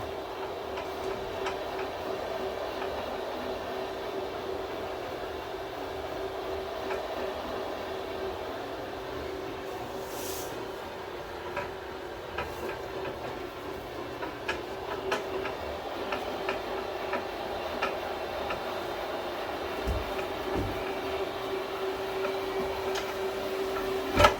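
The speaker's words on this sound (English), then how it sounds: "before we ever ran the carpet extractor over there, I guess that's the fancy name for it" A carpet extractor runs steadily on a cleaning job: a constant, even motor drone with a faint ticking texture, close and unchanging throughout, with no talking.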